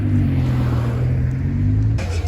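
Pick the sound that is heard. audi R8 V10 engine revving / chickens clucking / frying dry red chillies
audi R8 V10 engine revving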